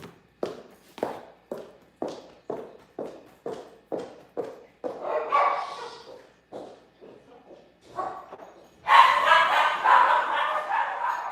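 Dogs bark indoors in a fast, regular series of sharp woofs, then a louder, more frantic burst of barking near the end, close by and with no talking over it.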